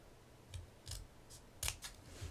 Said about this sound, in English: I'm going to go ahead and just cut in here and cut in here